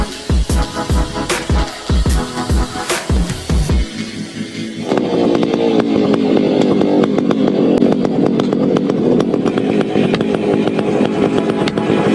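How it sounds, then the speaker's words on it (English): Heavy-duty logging chainsaws cutting into large trees, starting with a few sharp bursts of saw and impact noise, then shifting after about five seconds into a loud, steady, continuous engine roar without any talk. "Armed with chainsaws that roar like wild animals"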